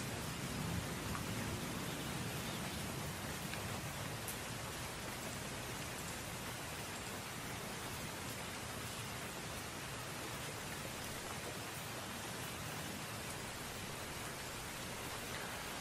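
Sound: very heavy rain outside an open door in Hyderabad

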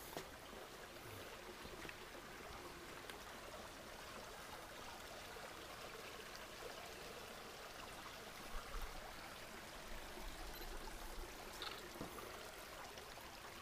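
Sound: small stream of water trickling

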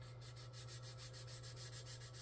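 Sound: sanding a car fender

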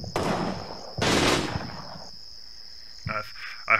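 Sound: gunfire from enemy soldiers shooting back, video game Combat Mission Red Thunder

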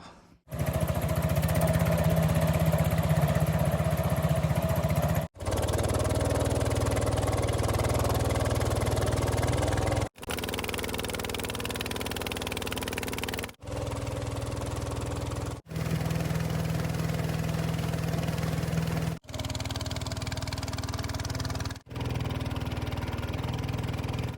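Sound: boat engine running on a reservoir

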